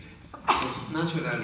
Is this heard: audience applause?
no